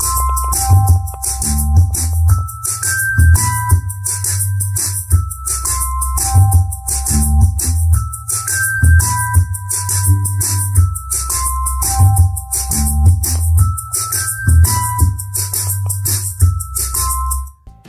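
A song plays through a Simbadda CST 6100N speaker boosted from 12V to 15V with a TDA2050 amplifier, with heavy, pounding bass under a repeating high melodic line. The sound is loud, dense and continuous for the whole stretch.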